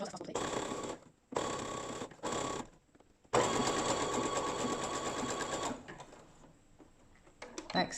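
A sewing machine back stitches bra cup elastic in short stop-start bursts, ending in one longer steady run that trails off into quiet.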